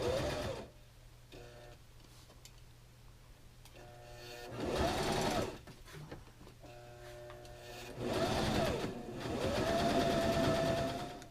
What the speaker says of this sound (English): So I have here all of my pieces cut, folded and pinned, ready to get stitched.